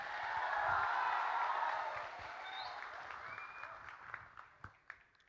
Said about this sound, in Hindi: ताली है सबके लिए।